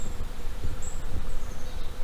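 Honey bees buzz steadily around a pollen feeder made from half a rice-container bucket screwed to a tree and filled with pollen substitute, a dense close hum with individual bees passing by.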